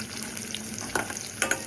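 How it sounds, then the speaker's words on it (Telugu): Sliced onions and green chilies fry in hot oil with spices for biryani, a close, steady sizzle with a couple of brief louder crackling bursts toward the end, no voices. "ఇవి బాగా ఫ్రై చేసుకోవాలి."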